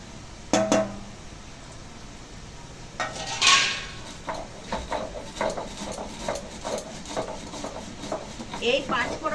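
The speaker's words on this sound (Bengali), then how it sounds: "পাঁচ ফোড়নটা ঠান্ডা হয়ে গেছে এবার বেটে নেবো" Roasted panch phoron spices ground by hand on a Bengali grinding stone, giving repeated scraping and knocking strokes in an uneven rhythm, close and moderately loud, with faint background voices.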